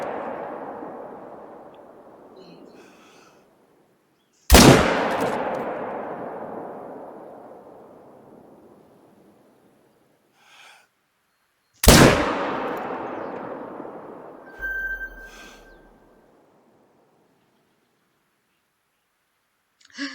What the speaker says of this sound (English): the thwack sound when you shoot is just great